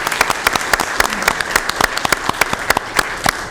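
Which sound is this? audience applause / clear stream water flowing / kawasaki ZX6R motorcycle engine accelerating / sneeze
audience applause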